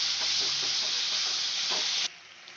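A paste of garlic, green chilli and ginger sautés in a pan with a bright, steady sizzle and soft stirring scrapes, close by, before the hiss drops away abruptly near the end.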